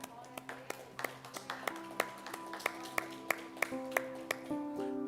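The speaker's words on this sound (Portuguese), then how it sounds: "Você pode aplaudir o Senhor por tudo aquilo que Ele fez." A church congregation at a Lord's Supper celebration service claps in a steady rhythm over sustained keyboard tones, the claps sharp but faint and fairly distant.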